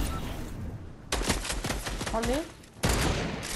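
Rapid bursts of gunfire in Fortnite, sharp dense crackling volleys in two main stretches separated by a short lull, with players talking briefly between shots.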